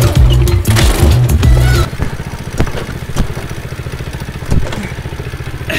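A vehicle engine revs loudly and close as gas is given, then drops into a steady, rhythmic chugging throb with occasional knocks.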